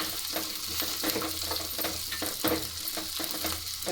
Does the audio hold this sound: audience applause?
no